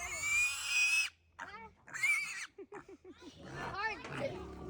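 Male piglets scream and squeal loudly while being castrated on a farm: long piercing shrieks break into short rhythmic grunting squeals, close and harsh, with no clear speech.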